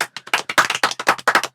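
Children clapping together in a classroom, a close, loud run of about a dozen sharp claps in a quick, slightly uneven rhythm, with brief gaps between them and no talking.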